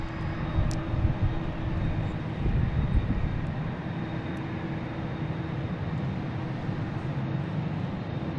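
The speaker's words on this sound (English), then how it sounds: "United coming in from Dulles, A319." A United Airlines Airbus A319 on flight 688 from Dulles arrives at Boston Logan, its jet engines producing a steady, broad roar that holds at an even moderate level throughout, with no talking.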